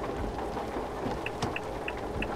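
Continuous rain in Euro Truck Simulator 2, a dense steady patter filling the scene with a few faint high beeps recurring over it.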